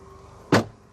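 A single solid thump as the manual rear tailgate of a 2011 BMW X5 xDrive30d is shut by hand. The short, loud closing sound cuts through a quiet background.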